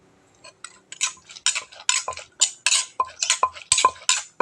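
Thai cucumber salad being pounded in a mortar with a pestle: a rapid, irregular series of sharp clacking knocks and clinks, close and distinct, with no talking.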